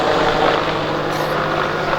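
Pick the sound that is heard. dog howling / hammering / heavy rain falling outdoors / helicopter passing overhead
helicopter passing overhead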